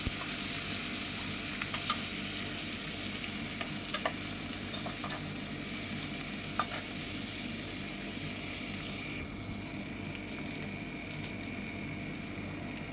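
Garlic and green chilli frying in hot oil with steady sizzling and occasional stirring clicks, a continuous close crackle throughout with no talk.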